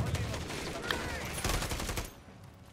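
Video game gunfire sounds as dense automatic bursts and rattling shots in a noisy firefight. It is loud and continuous, then thins out near the end.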